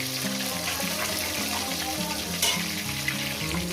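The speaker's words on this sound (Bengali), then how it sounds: "মাছগুলো আমি সুন্দর করে ভেজে নিয়েছি" Catla fish frying in hot oil, a continuous dense sizzle and bubbling heard close up, with a steady low hum underneath and one sharper crackle partway through.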